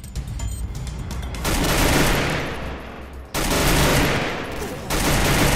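Rapid automatic gunfire in the video game Free Fire, dense loud bursts of shots cutting in and out in several stretches, with faint talk beneath.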